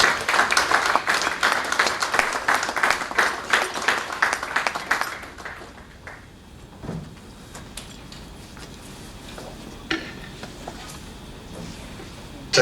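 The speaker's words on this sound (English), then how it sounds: "A round of applause for him, please." A conference audience at an aviation careers event gives loud, dense applause after a speech. The clapping fades after about five seconds into scattered claps and quiet room noise.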